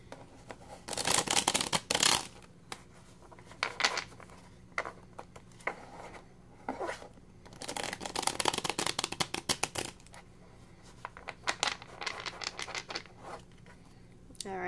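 A deck of tarot cards is shuffled up close in quick riffling bursts, crisp papery flutters and snaps that come in clusters separated by short pauses.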